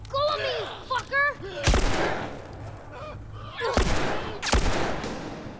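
In The Last of Us Remastered, two or three loud, sharp gunshots crack out a couple of seconds apart, each ringing off a little afterward, mixed with honking, voice-like sounds.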